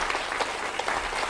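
A studio audience applauds for an Italian singer on a 1977 music television show, steady dense clapping throughout with no voices over it.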